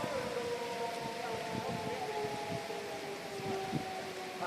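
Steady wailing tornado sirens in Bartlett, Tennessee, droning continuously at moderate distance over a windy, rustling outdoor background with no talking.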